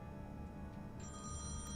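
A telephone rings in the point-and-click adventure game Thimbleweed Park, a steady electronic ring running the full short stretch at low level over a soft background bed.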